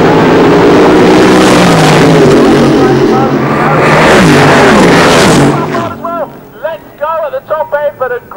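Drag racing cars launch side by side at Santa Pod during a 1990 spring nationals meeting, a loud roaring wall of engine noise that swells and then cuts away into quieter sounds near the end.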